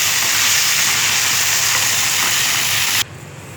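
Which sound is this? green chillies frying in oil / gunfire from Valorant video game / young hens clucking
green chillies frying in oil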